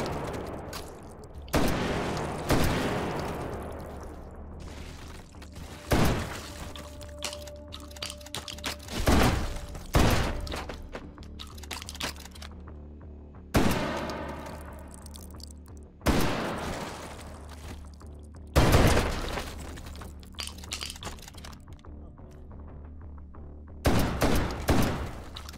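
Repeated shotgun blasts in the VR shooter H3VR, a loud close boom roughly every few seconds, each with a sharp crack and short decaying tail, with quieter handling clatter between shots.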